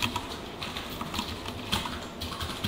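Steady keyboard typing runs throughout at a close, moderate level, quick irregular key clicks with a few sharper accents while code is entered into a computer.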